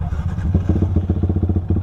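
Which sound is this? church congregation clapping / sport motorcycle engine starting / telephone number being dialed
sport motorcycle engine starting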